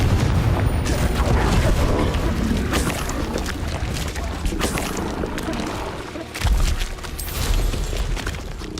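The Confringo fire-blast spell is cast in the game Hogwarts Legacy. Dense, loud, rumbling booms roll on without a break, with one heavier thump partway through.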